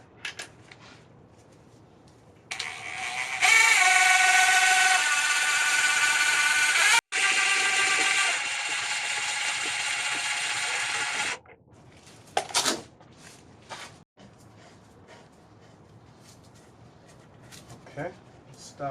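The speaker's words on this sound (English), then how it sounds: "I'm going to use this scissor jack from the cargo area, and I'm going to jack it up all the way to the tube here in the front" Scissor jack being cranked up under a 2004 Honda Pilot, a steady grinding, rasping mechanical run for several seconds before stopping, followed by a few scattered clicks and clanks nearby.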